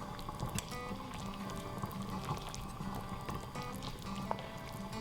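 Shoyu ramen broth simmering in a pot, a soft steady bubbling and gentle patter of liquid, faint and continuous with no voices.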